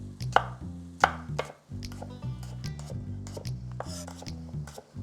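A knife chops through thin-skinned, unpeeled potatoes on a cutting board for soup, giving a string of sharp, close thuds at an uneven pace, with no voices.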